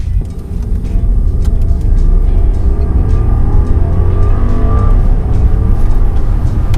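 A Rolls-Royce Ghost with a 570 hp engine accelerates smoothly, a deep continuous engine hum rising gradually in pitch, heard steadily from inside the car.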